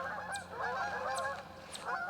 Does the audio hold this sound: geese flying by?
yes